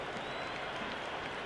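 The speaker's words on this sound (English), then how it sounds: "It's almost palpable, the excitement emanating from this crowd at the moment." A stadium crowd in the cricket video game Cricket 26 applauds and cheers in a dense, steady roar that fills the whole short moment without a break.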